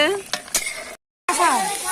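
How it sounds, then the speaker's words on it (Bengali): Eggs frying in a pan during outdoor cooking of egg khichuri at a neighbourhood picnic, sizzling steadily with a few stirring scrapes, broken by a short silent gap. "প্রথমে এখানে ডিমগুলো ভেজে নেওয়া হচ্ছে"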